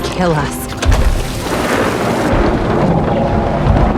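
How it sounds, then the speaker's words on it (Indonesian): Heavy rain pours in a dense, loud wash while thunder rumbles and booms, with strong gusts buffeting the microphone throughout. "hujan turun dengan lebatnya"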